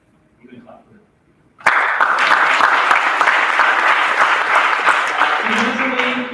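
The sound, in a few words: audience applause at athletic awards night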